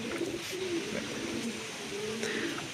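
A pigeon held in the hand gives soft, repeated rolling coos close by, several low calls in a row over a steady background hiss.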